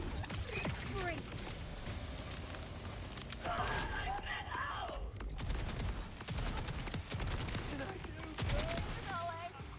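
The Bod sprayer gun in Borderlands 4 fires nonstop, a dense, rapid stream of shots layered with explosions, game effects and music, while someone talks over the din throughout.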